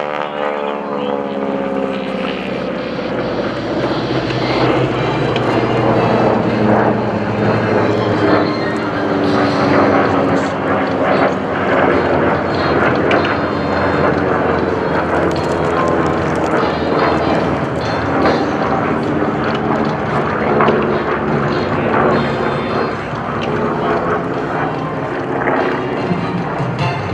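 A loud, sustained twin-engine propeller drone from a C-1A airplane roars past at an airshow, filling the whole stretch with a deep rumbling hum and wavering tones, while an announcer talks over it.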